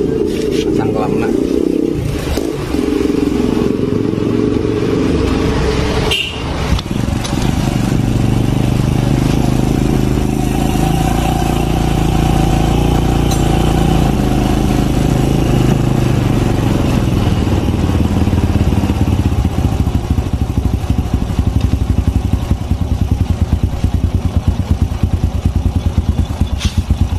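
Engine of a Suzuki Supra 100 motorcycle idling steadily after a tuning adjustment, a loud continuous close-up putter with a brief blip early on, under someone talking.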